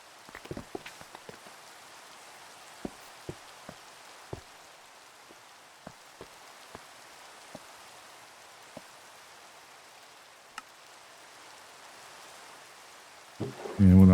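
Steady rain pours down in modded Minecraft, a soft continuous hiss broken by scattered sharp clicks, with a louder burst right at the end and no talking.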